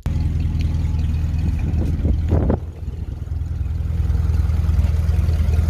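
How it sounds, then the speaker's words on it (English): A jacked-up 1951 Pontiac Chieftain runs with its transmission working: a loud, steady low engine drone, briefly wavering and dipping partway through as the gears engage, then settling back into an even rumble. "Here's a shot of the transmission working."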